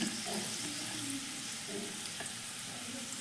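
Chopped onion sizzles and crackles steadily in a hot pan for a shrimp and tomato bhaji, with occasional scrapes of stirring over a constant frying hiss.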